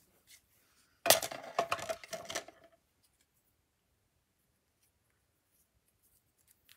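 Scissors snip quickly through paper while cutting out small flower shapes, a close, crisp burst of several cuts lasting a second or two, then quiet.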